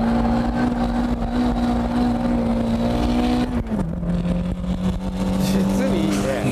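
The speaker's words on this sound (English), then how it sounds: "I'm literally flooring it the entire way." Engine of a drift car held at full throttle, a loud sustained high-revving drone that dips in pitch midway and then holds again, with faint talking underneath.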